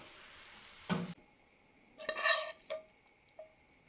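A short metal scrape, then a rustling slide and light clinks as fried cabbage is pushed out of a frying pan into another dish, followed by quiet taps.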